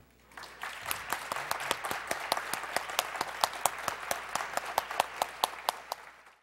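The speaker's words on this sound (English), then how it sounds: "join me in a wonderful round of applause for Claude and Al Mann." Sustained applause from a gala celebration audience, a dense, steady patter of many hands clapping at moderate distance, with sharp individual claps standing out throughout and no speech.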